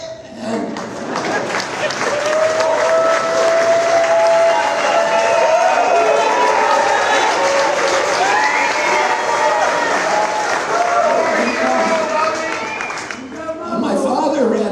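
A large crowd at a presidential candidate's town hall applauds and cheers loudly and steadily, a dense sustained roar of clapping and shouts with voices mixed in, easing off near the end.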